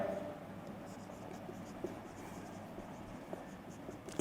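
Writing during an equilibrium derivation, a soft continuous scratch of pen or marker strokes with a few sharper taps, faint and close, with no talk.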